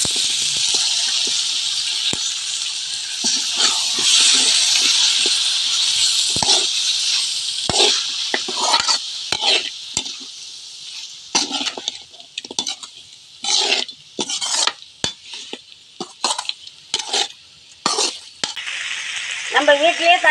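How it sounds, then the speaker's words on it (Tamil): Mutton fries with ginger garlic paste in a pan: a hissing sizzle runs beneath repeated scraping and clinking stirs of a spoon against the metal, with talk at times. "இப்போ கறி போட்டு வறுத்துக்கலாங்க."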